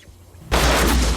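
A single loud gunshot fired at a milk carton during a methane explosion test, an abrupt blast after near silence that holds as a dense roar to the end.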